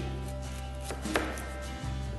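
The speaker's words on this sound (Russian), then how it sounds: "я нарезаю тонко овощи" A knife thinly slices eggplant on a board, with a few soft slicing strokes over a steady low hum and no talking.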